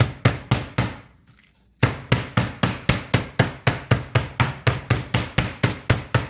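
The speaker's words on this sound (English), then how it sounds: "So I put it in a plastic bag and I pound it very gently." Chicken breast in a plastic bag is pounded flat with a mallet, a steady series of close, heavy thuds in an even rhythm after two opening blows and a brief pause.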